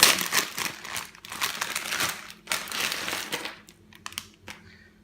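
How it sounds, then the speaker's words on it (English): Individually wrapped chocolate-covered caramel eclair candies are unwrapped close up, giving bursts of crisp crinkling and crumpling plastic wrapper that come and go in quick handling sounds and trail off into quieter rustles. "unwrap all of these eclairs, because they come individually wrapped"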